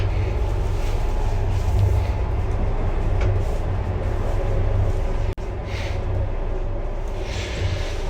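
Onboard a moving passenger train, a loud continuous rumble and rolling rail noise fills the cabin throughout, with a brief sharp click partway and no talk.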